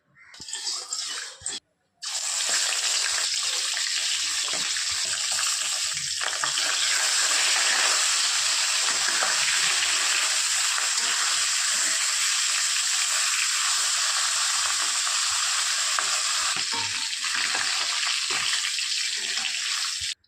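Bhetki fish fries in mustard oil with a loud, steady sizzling crackle close by that runs unbroken after a short pause near the start.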